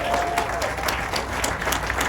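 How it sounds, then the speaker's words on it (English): A crowd applauds at an outdoor groundbreaking ceremony in Miami, dense continuous clapping with a few louder claps standing out, full and close throughout. "he deserves a round of applause"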